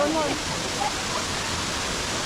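A waterfall gives a brief, steady, close roar of broadband rushing water, with faint voices underneath.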